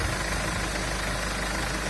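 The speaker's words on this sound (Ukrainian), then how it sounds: "оце вам під моторчиком, дивіться. Він робить, я вам скажу, він робить як бензиновий" Mercedes-Benz Sprinter van engine idling with the hood open, a close, smooth, steady hum with a faint even knock and no talking.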